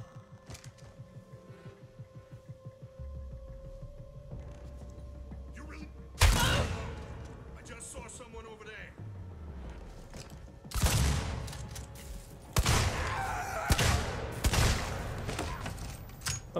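Bursts of gunfire in the sci-fi survival horror game Alien Isolation, with sharp loud volleys and shots coming in clusters over a steady ambient hum, plus scattered thuds.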